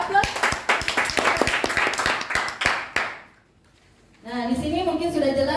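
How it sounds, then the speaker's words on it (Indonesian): An audience at a facilitator training session claps in a burst of quick, sharp hand claps for about three seconds, then falls quiet before a voice starts talking. "Ya, kasih aplaus."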